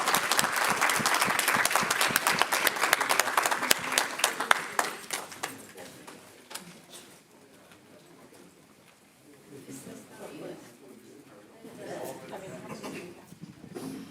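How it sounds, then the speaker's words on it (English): Crowd applause at a city council meeting rings out strongly for several seconds, then dies away into quieter room murmur and voices. "let's give them a round of applause as they come forward."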